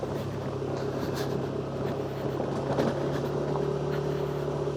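A Yamaha NMAX V2 motor scooter engine labours steadily up a loose gravel road beside a river in Tanay, Rizal, a continuous close droning hum with a low tone and wind noise throughout.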